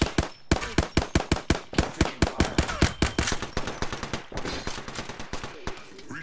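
Rapid automatic gunfire in the Apex Legends video game, a long string of sharp evenly spaced shots that loosens into a denser, more scattered burst near the end, loud and close.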